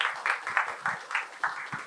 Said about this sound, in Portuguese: Eu queria dar uma salva de palmas para a cineasta, hoje, Suzana Lira